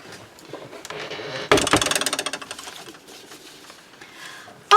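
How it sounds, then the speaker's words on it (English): A sewing machine stitches the sides of a paper pocket in a junk journal, a quick run of rapid rhythmic needle clatter close by, rising sharply then tapering off, with quieter handling noise before and after. "I'm going to bring in my sewing machine and I'm just going to sew up both sides of my pocket"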